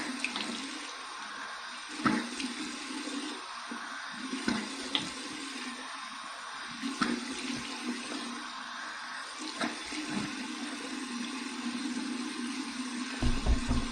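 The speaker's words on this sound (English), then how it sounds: "cold water rinse." A bathroom tap runs steadily into a sink for a cold-water rinse after a shave, a soft continuous splashing close by with occasional small knocks and no talking.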